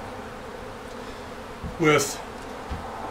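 Honeybees buzz around an open hive during a split, a droning hum with one louder buzz of a bee passing close to the microphone, while someone speaks briefly.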